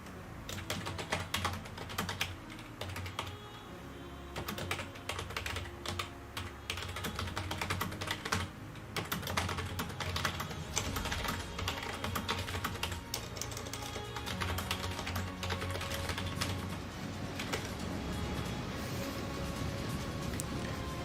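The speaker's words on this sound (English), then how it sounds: "I was just typing in the chat" A computer keyboard is typed on continuously at close range during a World of Warships Legends stream, with rapid irregular clusters of key clicks, brief pauses between bursts, and a low background hum.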